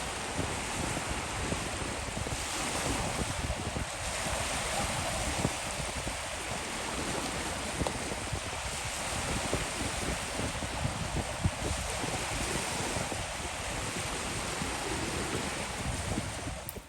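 Ocean waves wash continuously onto a beach in a broad, steady roar, with wind buffeting the microphone throughout and no distinct breaks between swells.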